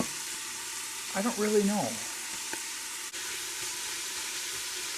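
Holy Trinity vegetables hit hot oil in an Instant Pot and sizzle briefly before settling into a faint, steady frying hiss, with a short spoken remark over the top.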